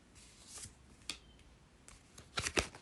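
Tarot cards shuffled by hand, a few crisp, irregular riffling and tapping clicks up close, building to a denser flurry near the end, with no talking.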